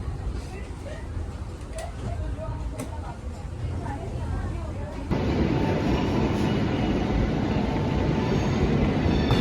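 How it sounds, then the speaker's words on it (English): Steady rumbling road noise inside an upper-deck passenger compartment of a Swiss train running from Zurich toward Grindelwald, growing louder and brighter about halfway through, with no voices over it. "this is my train compartment on the second floor"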